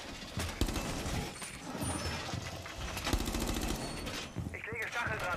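Gunfire in the tactical shooter Rainbow Six Siege, heard as dense, continuous game audio with sharp shot transients and clatter mixed with other effects throughout, fairly loud and busy.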